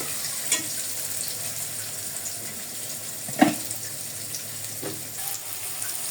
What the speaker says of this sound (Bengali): বাকি মাছগুলো ভাজার জন্য আবার কড়াইতে দিয়ে দিলাম। এভাবে আমি সবগুলো মাছ ভেজে নিব।